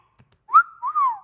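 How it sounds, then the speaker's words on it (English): A two-note wolf whistle, rising then falling, rings out clearly and alone, short and fairly loud. "That's a 2-year anniversary wolf whistle."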